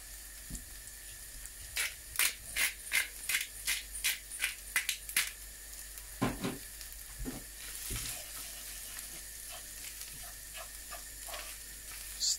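Salt and pepper stirred into a hot frying pan: a low steady sizzle runs throughout while a utensil scrapes and clicks against the pan in a quick series of strokes, fairly quiet and close.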